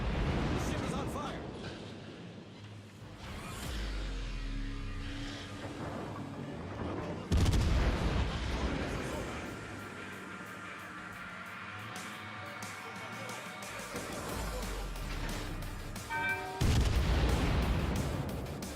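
Naval artillery in the World of Warships game booms in heavy, repeated salvos with deep rumbling blasts, while someone talks over the gunfire.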